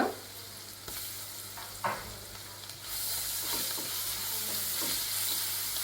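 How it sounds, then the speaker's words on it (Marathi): Ginger-garlic paste and green chilies sautéing in a pan while a green pea paratha filling is being made, with a soft sizzle and a few stirring knocks at first, then a louder, steady frying hiss. "व्यवस्थित परतून घेऊया अद्रक आणि लसूण पेस्ट"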